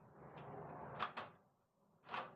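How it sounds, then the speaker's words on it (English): A security door is pulled shut and locked, giving a couple of close metallic clunks and a latch click, then another knock about a second later, with a faint background hum. "And then when we go to close our door"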